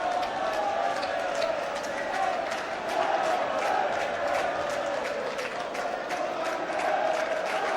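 Celtic fans in a football stadium at Aberdeen applaud as an injured player is stretchered off, producing a broad, sustained roar of distant clapping with a voice talking over it.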